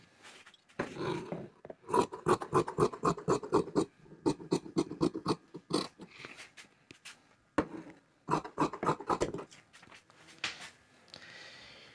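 Scissors cut through palazzo fabric in quick bursts of rhythmic snips, sharp and close, with short pauses between runs of cutting.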